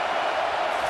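Stadium crowd roar in College Football 25 during a Clemson Tigers vs Notre Dame Fighting Irish game, a steady, loud wash of noise rising to back the defense.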